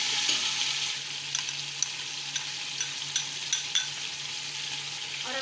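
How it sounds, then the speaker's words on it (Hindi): Chicken with garlic ginger paste frying in a pot for a Pakistani chicken pulao gives a steady, close sizzle, with a few light stirring clinks scattered through it. "हम इसको 5 से 7 मिनट फ्राई करेंगे"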